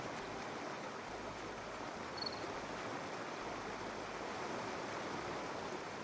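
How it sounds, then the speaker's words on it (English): Steady, broadband rushing of a waterfall in the video game My Time at Portia, loud and close, holding constant for the whole stretch with no talk over it. "Oh, that waterfall."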